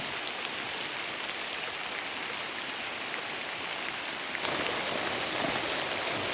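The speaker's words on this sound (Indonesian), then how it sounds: "air hujan mulai deras" Dense, steady heavy rain hissing down on surfaces on Mount Halau-Halau, South Kalimantan, a constant broadband wash that grows slightly louder partway through.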